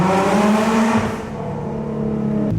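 Nissan GT-R widebody accelerating hard, a loud close engine roar with strong rising harmonics that swells, dips briefly, then surges again near the end, with no talk over it.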